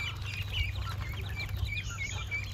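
A hen clucking near a village yard where ducks and ducklings are being fed rice, soft intermittent clucks over steady low background rumble, no talk.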